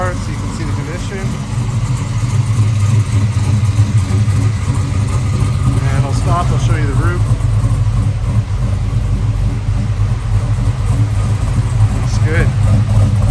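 A 1970 Chevrolet Chevelle SS restomod with an LS3 427 stroker V8 and a lumpy cam idles steadily nearby, a deep loping rumble that runs the whole time while someone talks over it.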